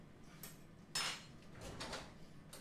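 Spoon clinking against dishes in a home kitchen while washing up after cooking, a few sharp light clinks spaced over a couple of seconds, close and fairly quiet.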